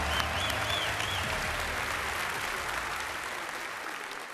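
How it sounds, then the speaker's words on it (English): Audience applause fills a large hall at the Bethesda E3 2015 showcase, a loud sustained wash of clapping that slowly tapers over a few seconds. "If you would, another round of applause"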